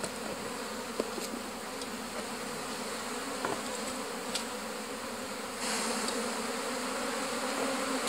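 Bees buzzing near a hive with paraffin wax comb, a close, steady insect drone holding throughout with a few brief buzzing passes, and no one speaking.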